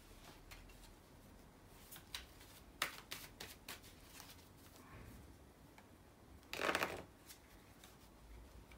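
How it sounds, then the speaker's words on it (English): Tarot cards are dropped and shuffled by hand, soft, faint flicks and taps scattered across a quiet room, followed by one brief, louder riffling burst near the end. "So I dropped a few cards."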